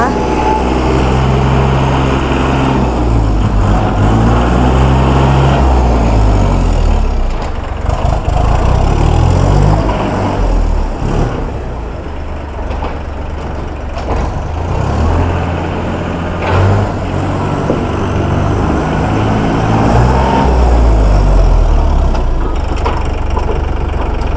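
A used Iseki 40-horsepower tractor runs with a loud, rough, steady diesel chug that rises and dips slightly, while a voice talks over it at times.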